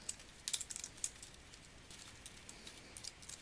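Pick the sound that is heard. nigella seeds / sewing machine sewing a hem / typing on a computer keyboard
typing on a computer keyboard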